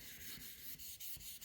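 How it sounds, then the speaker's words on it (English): Hand sanding of scratches in a car's clear coat using sandpaper on a block, a faint, steady back-and-forth rubbing with soft rhythmic strokes repeating roughly every fraction of a second, heard alone. "I'll just keep doing this back and forth on these scratches, side to side, ever so lightly, just letting the paper do the work."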